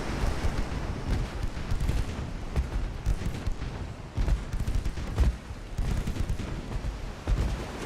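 Battleship shell hits and heavy naval gunfire in the Ultimate Admiral Dreadnoughts video game, a dense run of loud booming blasts and rumbling impacts following one another over a continuous windy roar, with no voices.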